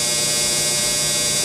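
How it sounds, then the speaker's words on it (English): A clothes dryer runs nearby with a steady, loud mechanical hum and whir, constant throughout with no voices. "Sorry, my dryer. I'm doing laundry."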